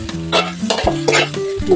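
Fried rice with oyster sauce being stirred in a pan: quick scraping strokes of the spatula over a light fry sizzle, close and fairly loud, with no voices.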